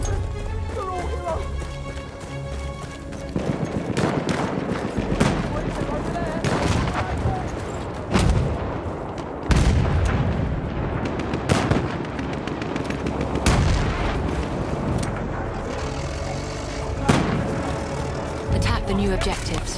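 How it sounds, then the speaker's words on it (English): Artillery barrage and gunfire in the Battlefield 1 open beta, with repeated heavy booms and rapid shots over constant battle noise, loud and dense throughout, with game voices heard in the mix. "Wait for the enemy artillery barrage to stop firing."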